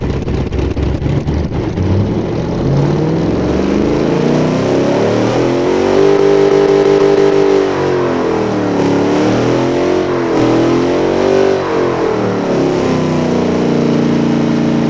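A simulated 305 small-block Chevy V8 in the game Automation revs continuously toward 9100 rpm, its pitch sweeping up and down in smooth waves, loud and steady throughout with no voices.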